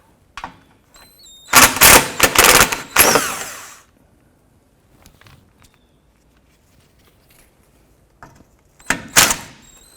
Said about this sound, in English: Using a 13mm, we're going to go ahead and remove this bolt and this bolt here.